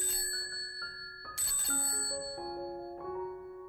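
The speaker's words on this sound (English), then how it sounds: "she ran across the road and rang Holmes's doorbell" A doorbell rings as a sound effect in a detective story, a bright electronic chime of several stepped tones sounding alone, close and clear, with a short melodic sequence rising and falling.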